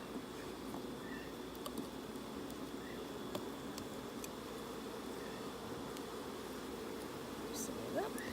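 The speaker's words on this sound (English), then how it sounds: "There's quite a few bees on this one." A steady, low hum of many honeybees buzzing close by on a hive frame, constant and unbroken, with faint ticks and rustles over it.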